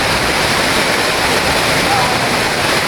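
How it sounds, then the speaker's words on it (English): Na Pali coast waterfall roars as a steady, loud, dense rush of falling water, continuous and unbroken throughout, with no other sounds standing out. "can see that waterfall."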